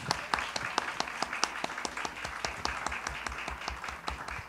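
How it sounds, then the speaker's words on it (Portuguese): A Portuguese-speaking audience at a literary talk about books gives another round of applause, scattered individual claps ringing out distinctly and fairly near in an uneven patter that keeps going throughout. "Mais aplausos para a Soraya."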